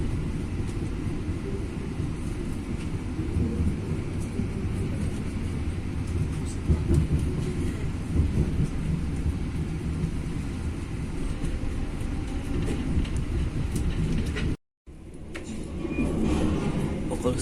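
KA Taksaka passenger train rolling into Cirebon station, a steady rumbling ride noise with faint rail clatter heard from on board, continuous apart from a brief dropout near the end.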